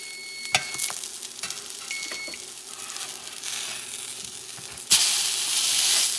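Flipped hoe cakes, an 1700s cornmeal recipe, cook in a pan with a soft steady sizzle, a few handling clicks and faint electronic beeps, then a sudden louder surge of hissing near the end.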